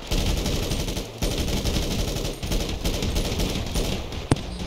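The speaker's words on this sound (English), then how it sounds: "Shots fired." Sustained rapid video game gunfire rattles almost continuously with brief pauses, loud and close, ending with one sharp single shot.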